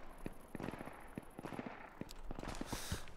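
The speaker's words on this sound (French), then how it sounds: "Je me fais tirer dessus, hein," Gunfire in the survival shooter Deadside: a rapid, irregular string of sharp cracks and bursts, some close and loud, others more distant, continuing across the whole moment with no talking over it.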